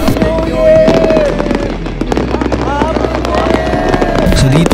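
A summer fireworks display in Japan pops and crackles with repeated loud bursts, while people talk over the show.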